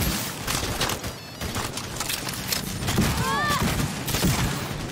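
Gunfire from a weapon in Cyberpunk 2077, a dense burst of shots and impacts mixed with game effects, fairly loud and steady throughout, with a whistling tone near the end.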